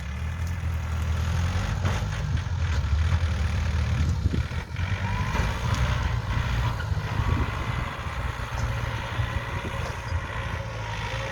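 A Ford road vehicle works on a road some distance away, giving a continuous low engine rumble that idles and labours steadily, with no talking.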